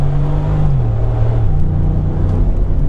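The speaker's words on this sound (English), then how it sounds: "Let me go ahead and step on the throttle." A 2019 Mercedes-Benz G550 W463 V8 in sport mode accelerates under throttle, a loud, steady engine roar whose pitch rises and steps up through the gears, heard close with no talk.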